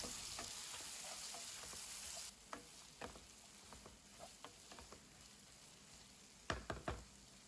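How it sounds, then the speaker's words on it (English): Chilies and sliced onions fry in a pan over a medium flame, with a steady sizzle and a series of sharp clicks and scrapes as a utensil stirs them. No one speaks. "Now fry these for 2 minutes until the chilies turn partially black and then add the sliced onions"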